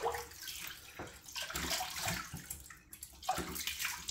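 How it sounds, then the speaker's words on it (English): Cold tap water runs steadily in a bathroom sink for rinsing off after a wet shave with a razor, a continuous splashing rush close by with no talk. "I'm going to use some cold water now"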